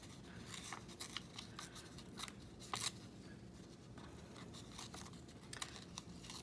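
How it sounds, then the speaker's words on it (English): Paper being torn by hand while shaping jagged leaf edges on a small fruit craft tag, a close, steady run of dry rips and crinkles with no talking. "tear this a little bit more, make it a little more jaggedy, similar to the leaves"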